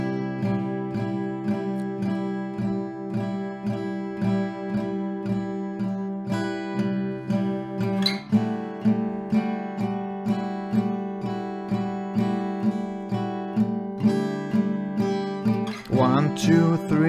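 Acoustic guitar plays the chord progression of a song slowly, strummed in an even, regular rhythm with a brief chord change near the end, close, clear and without any voice.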